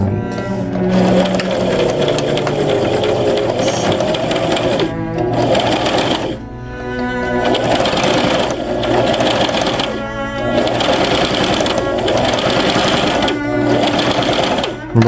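A sewing machine runs steadily, stitching fabric for a sewing machine cover with a close, continuous mechanical whir and a few brief pauses, while a person talks over it.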